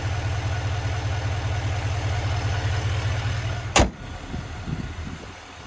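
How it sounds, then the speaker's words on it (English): A 2026 GMC Sierra 2500HD AT4X's Duramax turbo diesel engine idling with a steady low rumble close by, cut off by a sharp thump partway through, after which the hum fades. "there's that turbo diesel Duramax"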